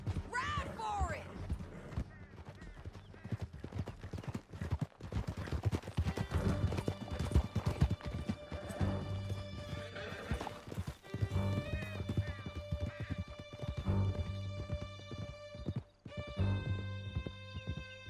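Horses gallop hard in Red Dead Redemption 2 during a canyon escape, their steady clip-clop rhythm loud and continuous with whinnies, mixed under game music and voices talking.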